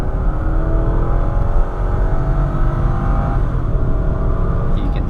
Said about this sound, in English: I'm gonna floor it here.